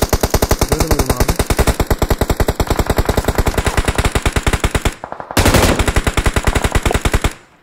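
Rapid automatic gunfire from the PUBG battle royale game rattles in long, loud, evenly spaced bursts, pausing briefly before another burst resumes.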